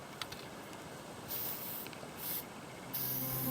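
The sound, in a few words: spraying Plasti Dip on a truck tool box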